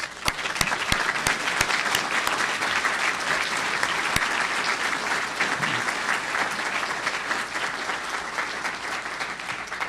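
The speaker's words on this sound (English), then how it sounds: "I think they deserve a round of applause." Sustained audience applause at a university event on a campaign against torture, dense and steady for the whole stretch with a few sharper claps standing out near the start.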